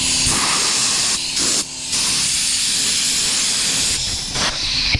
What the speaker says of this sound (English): I'm going to spray some compressed air on it to clean it off.